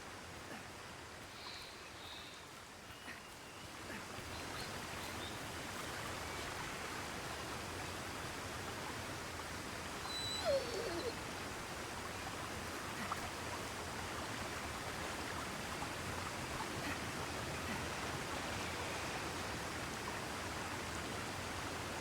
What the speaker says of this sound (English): even the look at the waterfall falling. The waterfall falling.